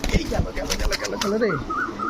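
Budapest pigeons at a pigeon market coo in low throaty bursts close by, with wing flaps and someone talking over them.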